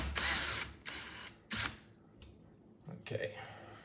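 Fittings on a Santec 3/4-inch thermostatic valve are tightened by hand with a tool, making a few short bursts of ratcheting, grinding metal clicks close by, with talking heard through the clip.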